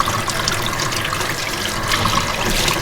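Warm tap water running over a pleated sunburst tie-dye tee during rinsing, a steady rushing splash with some bubbling, close and continuous with no talking.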